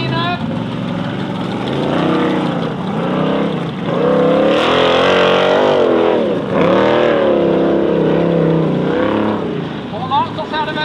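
Formula offroad race car on a track in Norway, its engine roaring loudly with repeated rising and falling revs as it drives, with a commentator talking over the noise.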